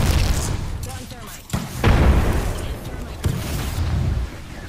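Frag grenade explosion in Apex Legends, with booming blasts and rumbling battle noise heard over a voice talking.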